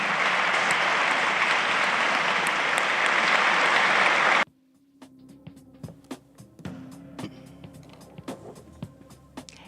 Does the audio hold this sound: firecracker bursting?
no